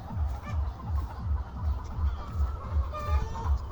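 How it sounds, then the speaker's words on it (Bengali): Chickens in a poultry shed on a farm cluck and squawk in a busy, repeating chorus with a steady low rhythmic thump underneath, close and fairly loud, with faint voices now and then. "এটা হচ্ছে আমাদের মুরগির শেড।"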